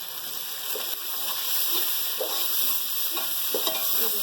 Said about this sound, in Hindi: मसाला माशाल्लाह से ये जो ना फ्राई हो रहा है